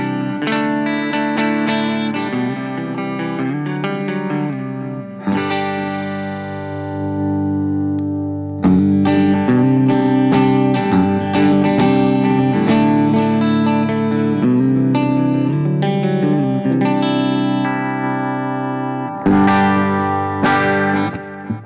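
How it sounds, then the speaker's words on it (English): Reverend Bayonet electric guitar played clean with its bass contour rolled off for a thinner, single-coil-like tone; sustained chords and picked notes ring out loud and steady, with effects coloring the sound and no talking. "This guitar also features the bass contour, which you can roll off the low end, and it gives it a little bit more of a single coil sound."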